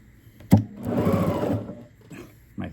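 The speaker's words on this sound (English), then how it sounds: "I'm going to sew the rest of this" A sewing machine stitches quilt block pieces in one short whirring run of about a second, framed by a sharp click before and a soft thump after.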